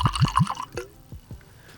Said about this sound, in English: All right, let's pour this in.